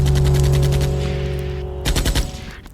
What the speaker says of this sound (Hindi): बंदूक निकाली और जब तक कुछ समझ में आता गोली चला दी